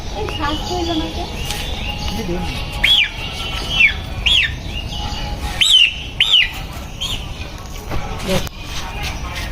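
A turkey gives several short, high, chirping calls at irregular intervals over a constant background murmur, with voices present in the surroundings.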